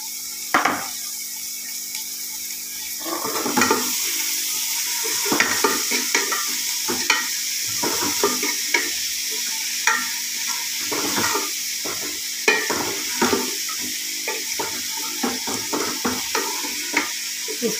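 A spoon stirs tomato and onion sabzi in a pan, scraping and clacking in an irregular rhythm of close, distinct strokes over a steady low sizzle, with no talking.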